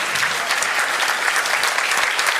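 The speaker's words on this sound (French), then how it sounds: "On peut les applaudir." Audience at a French-language roundtable conference applauds the speakers, a steady, dense wash of clapping from many hands filling the whole moment without any voices over it.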